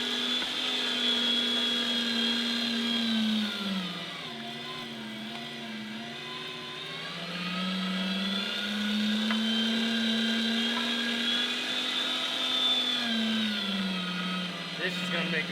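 A meat grinder churns beef fat for tallow with a steady, loud motor whine that dips and strains under load midway, then recovers to its full pitch and continues without pause.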